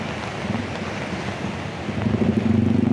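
A motorcycle ridden through a flooded street in the rain in Jakarta, with a steady wash of water and wind noise and a louder engine rumble building near the end.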